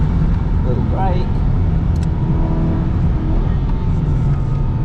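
An Aston Martin V8 Vantage GT4 race car drives a lap of a track, its engine a steady loud rumble throughout, close and continuous, with brief rising tones as it works through the gears.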